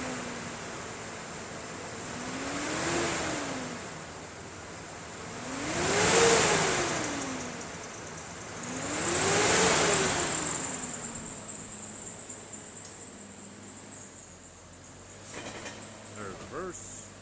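A 2006 GMC Envoy SLE engine idles, then revs up and back down three times in smooth swells before settling into a quieter steady idle.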